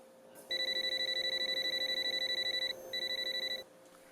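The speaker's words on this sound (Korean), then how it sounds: "취침 중이던 사내가 알람 소리에 급히 일어납니다." An alarm clock rings before dawn at 4 a.m., a steady rapid electronic beeping that pulses for about two seconds, pauses briefly, then resumes. It is loud and clear over a quiet room with no talking.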